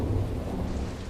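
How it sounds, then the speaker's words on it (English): A low, rolling thunder rumble runs under a dense, steady hiss of heavy rain falling on rocky ground, loud and continuous throughout. "As thunderstorms rocked the skies, the rain began to fall on the rocky surface below."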